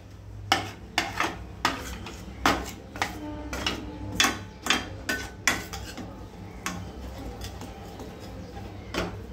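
Butter and maida being stirred together in a pan over a low flame, a utensil knocking and scraping the pan in a regular series of sharp close strokes, with no voices.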